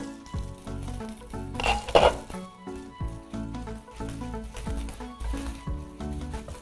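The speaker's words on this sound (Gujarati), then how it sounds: "એક વખત સાબુદાણાને પણ હલાવી દઈશું." Sago pearls cook in a pan and are stirred, giving a soft sizzle with a brief louder scraping stir, all set under steady background music.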